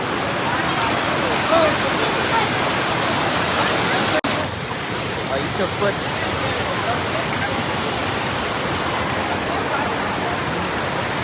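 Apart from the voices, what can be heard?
water rushing strongly near a waterfall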